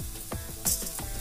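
Cumin seeds are dropped into a little hot oil while aloo samosa filling is made, giving a steady close sizzle with faint crackles and a stirring clink.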